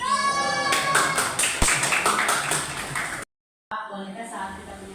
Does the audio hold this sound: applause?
yes